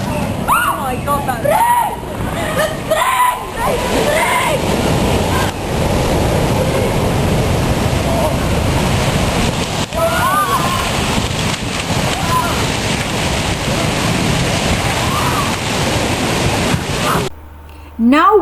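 Tsunami waves crash and churn in a loud, continuous roar of rushing, splashing water with wind noise across the microphone, briefly cut off near the end.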